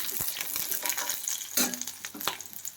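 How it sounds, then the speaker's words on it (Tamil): Garlic, dried chillies and tamarind sautéing in a pan give a steady, moderate sizzle with soft stirring scrapes and a few sharper clinks, no talk. "இதெல்லாம் சேர்த்து நல்லா வதக்கிக்கலாம்"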